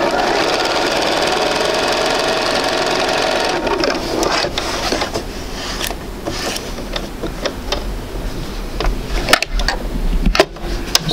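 A sewing machine stitches continuously around fabric pieces of a sampler quilt, a loud close whirring run that gives way to stop-start bursts and clicks as the work is pivoted.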